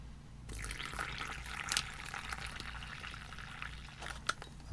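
Hot water pours steadily into an MRE food pouch for a Mexican-style rice and bean bowl, a continuous close trickling wash with a few small clicks and bumps near the end.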